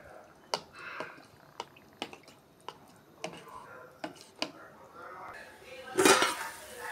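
A spoon clinks repeatedly against a bowl in an uneven rhythm while stirring cornflour into water, ending with a louder, scraping clatter.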